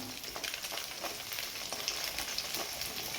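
Chicken fried rice sizzles steadily in a hot pan while being stirred, with scraping clatters of the spatula scattered through a continuous crackling fry; no voices.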